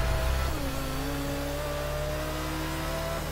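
Maserati Ghibli in a Fast and Furious racing game surging forward on nitrous, a loud, steady engine roar climbing in pitch with a whooshing boost whine, no talk over it.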